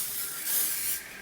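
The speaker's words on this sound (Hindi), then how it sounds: "हल्का सा स्प्रे कर लीजिए।" Hairspray misted lightly over pinned 1920s-style waves, a soft continuous aerosol hiss lasting just over a second with a slight swell midway, close and alone without talk.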